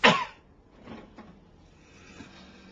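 A single sharp cough right at the start, followed by quiet breathing and faint rustling.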